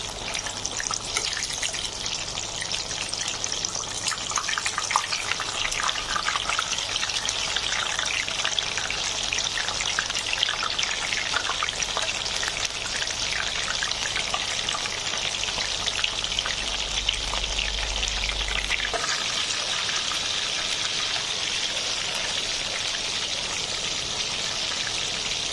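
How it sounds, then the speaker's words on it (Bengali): Batter-coated pointed gourds stuffed with filling deep fry in hot oil, giving off a steady, close, hissing sizzle that runs unbroken for the whole stretch with no talking. "আমি পটলগুলো একটু ডিপ ফ্রাই করব।"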